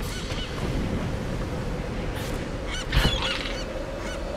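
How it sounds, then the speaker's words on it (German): Calls from a flock of seagulls in the video game Tomb Raider, clifftop setting, honking cries repeating over a steady wind-like ambient bed, with one louder burst near the end. "Wow, eine Menge Möwen unterwegs."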